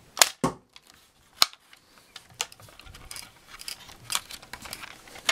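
An XBOW MKII crossbow looses a bolt into a white cardboard target, giving a sharp snapping release and impact, followed by a smaller click and then faint scattered clatter and handling noises.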